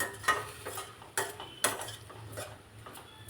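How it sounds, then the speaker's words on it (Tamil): A spoon stirs cabbage and bean poriyal with grated coconut in a pan, making several scraping clinks against the metal at an uneven pace. It is close and moderately loud, with a faint sizzle under it and no voices. "போட்டு நல்லா கிண்டி விட வேண்டியதுதாங்க."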